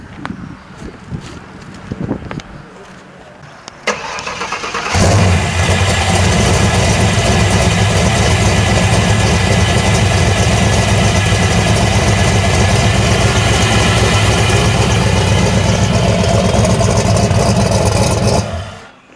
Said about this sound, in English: All right, we'll start it up. If you want to hear it, we'll fire it up.